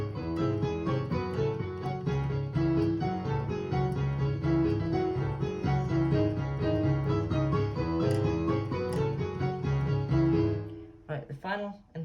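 Piano plays a theme, repeating chords with a busy harmonic melody over a steady low part, moderately loud and continuous before fading out at the end.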